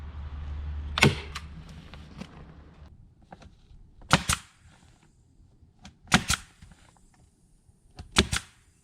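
A staple gun fires into greenhouse plastic: four sharp, distinct snaps spaced a couple of seconds apart, each with a brief rattle, against a quiet background.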